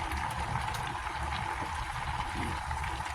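Pot of saluyot greens bubbling steadily on the stove as string beans go in, a soft, even boiling hiss and burble with no talking.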